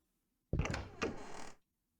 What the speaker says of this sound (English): Did the back door just open?